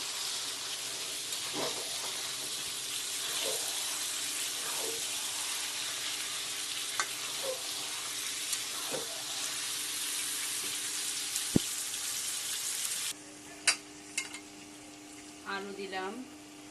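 Mutton frying with spices sizzles steadily and loudly in a pan, with occasional stirring knocks before the sizzle drops as potatoes go in, then clatter and a voice close by.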